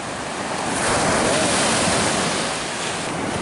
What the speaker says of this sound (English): something came by to make some waves